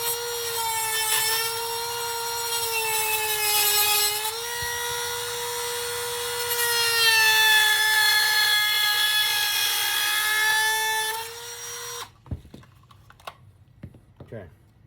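A high-pitched rotary tool whines steadily and loudly for about twelve seconds while cutting material for a Glock 19 build, its pitch dipping under load, then stops, leaving scattered clicks and handling noises.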